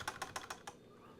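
Fast typing on a computer keyboard, five quick sharp key clicks in an even rhythm followed by quiet, heard close and alone.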